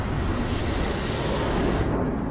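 A jet airplane at Congonhas Airport, São Paulo, roars steadily and loudly, a constant broad rumble of engine noise with no voices.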